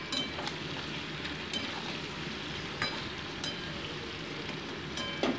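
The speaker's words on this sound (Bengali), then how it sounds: "সবজিগুলোকে জাস্ট একটু সটে করে নিচ্ছি" Vegetables sauté in hot oil in a pan, giving a steady close sizzle with a few sharp clinks of utensils against the pan and no voices.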